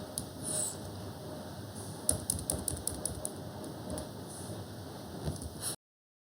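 Computer keys tapped in short bursts of quick clicks while entering numbers into an Excel spreadsheet, faint and close in a quiet room, stopping abruptly at the end.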